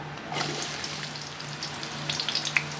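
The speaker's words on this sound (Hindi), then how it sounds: "अच्छे तरीके से फ्राई करेंगे।" Onions fry in hot ghee in a wok, giving a steady close sizzle with scattered sharp crackles and pops throughout, no voices.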